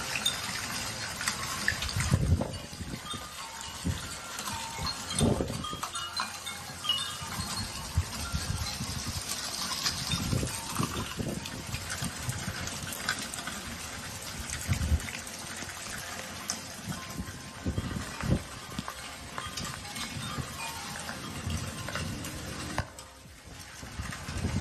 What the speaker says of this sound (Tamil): இப்ப மழை நீர், இப்ப மழை பெய்யுது